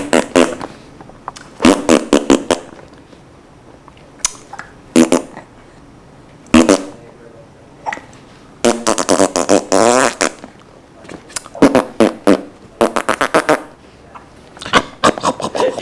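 A pink bunny toy lets out repeated electronic fart noises in loud, separate bursts of varying length with brief pauses between, heard alone and close up.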